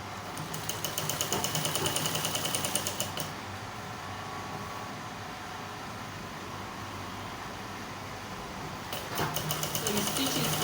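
A sewing machine stitches fabric for a kimono dress, running in fast rattling bursts at the start and again near the end with a quieter hum between, heard up close.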